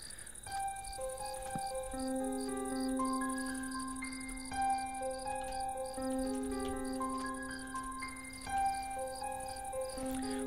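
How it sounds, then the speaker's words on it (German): Crickets chirp in Minecraft's Nether, a continuous high pulsing chirr under a layer of sustained synth-like tones, steady and moderately loud throughout with no one talking. "Warum hört man denn hier im Nether Grillen zirpen?"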